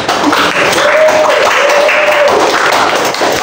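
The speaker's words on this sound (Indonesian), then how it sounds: "Beri tepuk tangan yang meriah untuk Rina." Students in a classroom applaud a classmate, a loud, close burst of scattered hand claps with a faint steady hum running underneath.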